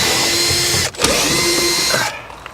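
A power drill whirs steadily at close range while backing screws out of a Ford Focus Mk1 sunroof, dropping out briefly near the one-second mark, then running on before cutting off to near quiet.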